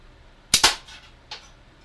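Gunshots ring out during weapon zeroing: two sharp cracks in quick succession, then a softer third report a moment later, with no talk.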